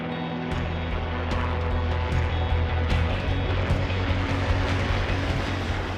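Steady drone of a rescue aircraft flying toward a tundra fire in Greenland, carrying firefighters and equipment, a continuous engine hum with no voices.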